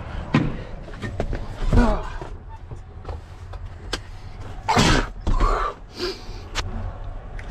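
A single sudden, sharp sneeze bursts out at close range inside a truck amid light rustling and handling noises.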